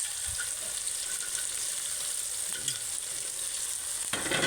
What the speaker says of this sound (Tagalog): Kaya ihalo na po natin ang Bilis.